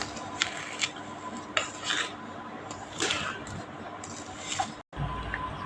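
Powdered sugar and other laddu ingredients are mixed in a bowl by hand, making soft, irregular rubbing and scraping sounds at close range, with brief quiet gaps between the strokes.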